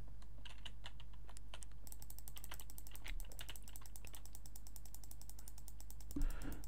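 Rapid mouse clicking during Minecraft play: a dense run of sharp, dry clicks over a steady low background hum, with a slightly louder click burst near the end.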